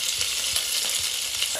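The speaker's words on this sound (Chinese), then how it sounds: "再翻个面啊，洋葱再煎一下" Onion and other food sizzle and fry steadily in a pan on a basic home stove, a dense, continuous crackle with faint soft stirring or scraping pulses, close up and with no talking.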